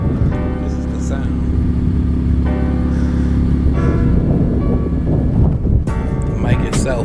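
An Infiniti Q50 engine idles with a steady low rumble, close and fairly loud, with a brief rev near the end and someone talking over it.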